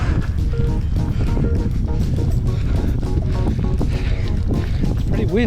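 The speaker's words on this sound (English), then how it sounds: "It's pretty windy, but it's kind of to be expected with the lake down there." Strong wind gusting across a hillside above a lake in the Wicklow Mountains during a long run, a loud, steady roar buffeting the microphone throughout with no clear break.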